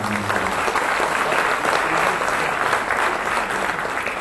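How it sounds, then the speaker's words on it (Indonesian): A crowd at a Bank Indonesia fintech launch event claps in dense, sustained applause, loud and even throughout. "Bagaimana kalau kita berikan tepuk tangan untuk acara kita bersama?"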